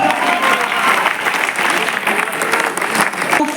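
Loud, sustained applause from a seminar audience at Awadh University in Ayodhya, dense clapping filling the room without a break for several seconds.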